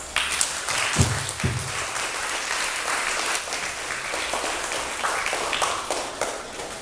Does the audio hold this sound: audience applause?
yes